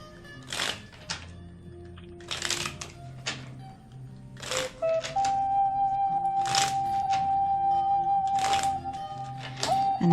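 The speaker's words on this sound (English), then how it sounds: "And as I shuffle the cards," Tarot cards are shuffled on a radio program, giving several short papery riffles about a second or two apart, with a soft sustained tone humming underneath in the second half.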